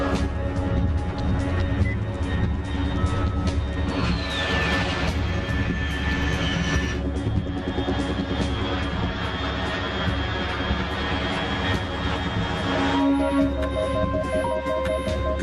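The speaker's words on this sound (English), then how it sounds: "Unidentified aircraft detected." Aircraft flying overhead in Metal Gear Solid 3, a loud, continuous engine roar with a rising whine that holds steady throughout, with no voices over it.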